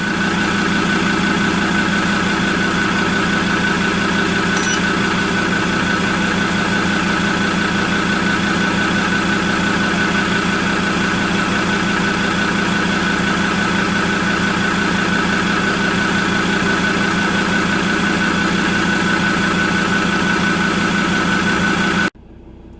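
A Ford Ranger T6 PX2 engine idles after an oil and filter change, a steady, even drone with strong tonal hum that holds unchanged for over twenty seconds before cutting off abruptly, no talking.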